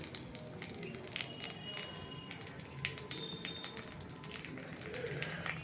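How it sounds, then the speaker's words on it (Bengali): Cumin seeds, dried chili and bay leaf tempering in hot oil: a faint, steady crackle and sizzle with scattered small pops, with no voices. "তারপরে জিরে, লঙ্কা, তেজপাতা ফোড়ন দিলাম"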